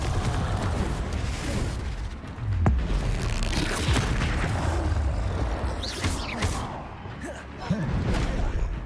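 A Confringo fire spell blasting in the Hogwarts Legacy video game amid battle, loud booming bursts and whooshes over a dense continuous din of combat effects.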